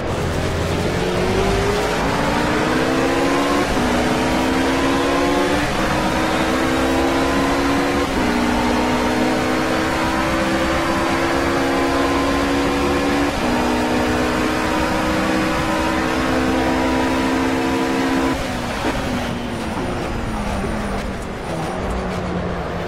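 A Porsche 911 GT3 racing at Monza in Project Cars: a loud, continuous engine wail climbing in pitch through repeated upshifts, each gear change marked by a brief drop, with a final lift near the end.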